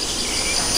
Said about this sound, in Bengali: চারদিকে শুধু ঝিঝি পোকা ডাকে